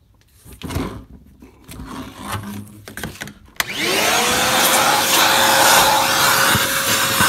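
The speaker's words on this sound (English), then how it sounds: "What you need to do is get a vacuum, shop vacuum like this one." A loud, steady whooshing roar of a shop vacuum cleaning a Toyota Prius C hybrid battery fan kicks in abruptly after some faint clatter and handling noises, then runs continuously.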